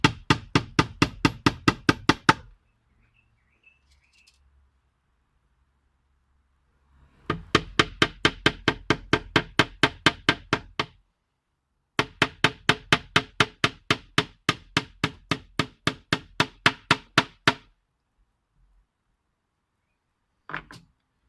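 Nails hammered into wood while building a DIY side table with arm-cover top: three rapid bursts of sharp, evenly spaced close hammer blows, separated by short quiet pauses, with a lone strike at the end.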